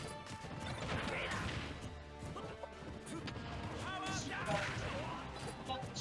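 A grenade blast in a fast competitive fighting game match, heard as loud crashing impacts and whooshes layered over dense game effects and music, with excited commentary talking throughout.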